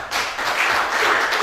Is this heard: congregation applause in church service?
yes